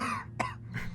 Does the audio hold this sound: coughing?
yes